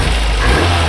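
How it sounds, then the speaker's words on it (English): 1981 Toyota Hilux N30 pickup engine revving briefly, a loud close rumble with strong low-end throb that shifts pitch within a second, no voices. "Go ahead and rev it up a little bit."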